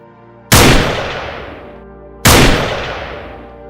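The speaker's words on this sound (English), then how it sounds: "The sound of gunfire echoed, and one by one, the wild boars were destroyed." Gunfire during a wild boar hunt in swamp country, two loud booming shots close together, each followed by a long echoing decay, with no voices heard.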